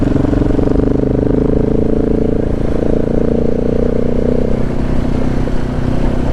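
A KTM 690 Enduro R motorcycle ridden off-road on forest tracks in the Oregon Coast Range, its engine a loud, steady, close drone that swells slightly in pitch midway, with no speech over it.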